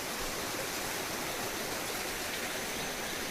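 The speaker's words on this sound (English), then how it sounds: "the water's flowing" Water flows steadily in a stream, a constant broadband rushing wash with no breaks, moderately loud and close, with no voices present.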